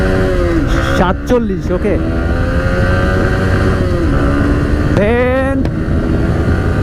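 A modified Yamaha R15 v3 motorcycle accelerates through the gears on a rough road. The engine revs climb and drop at quick shifts, close and loud over steady wind roar, while someone talks.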